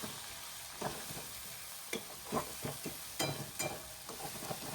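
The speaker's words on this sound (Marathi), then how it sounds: "लालसर कलर येऊपर्यंत आपल्याला मसाला व्यवस्थित फ्राय करून घ्यायचा आहे" Wet masala paste fries in a pan for a mushroom bhaji, a faint steady sizzle with occasional soft scrapes of a spoon stirring, quiet and close.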